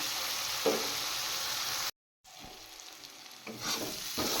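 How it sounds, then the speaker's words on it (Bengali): Steady sizzling of spice paste with tomato frying in hot oil for a fish dish, with stirring scrapes and a short silent break midway before the sizzle resumes. "এবার আমি টমেটো না গলা পর্যন্ত একটু মশলাটা ভেজে নেব"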